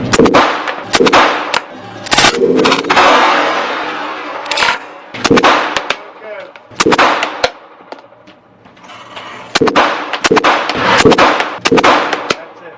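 A gun fired repeatedly at a target at a shooting range, loud sharp reports in irregular bursts and single shots with ringing decays, close by and dominating throughout.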